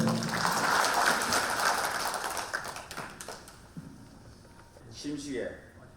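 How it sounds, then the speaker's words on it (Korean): Applause from an assembly welcoming a new Busan branch chief of the Vietnam War veterans' association, loud clapping that fades after a few seconds, followed by scattered claps and a voice near the end. "우리 모두 다같이 큰 박수로서 환영합시다."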